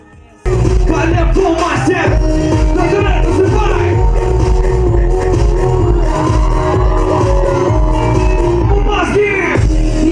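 Loud, dense crowd noise of fans cheering and clapping for the pop group over booming music, sustained throughout after a sudden start.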